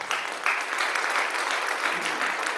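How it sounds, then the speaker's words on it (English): Church congregation at a Day of Remembrance Sunday service clapping loudly and continuously, a thick wash of many hands that holds steady throughout. "you are applauding each other and our church ancestors"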